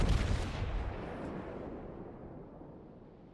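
A World of Warships battleship's heavy gunfire booms and a citadel hit lands, one loud close blast that rolls off into a long fading rumble.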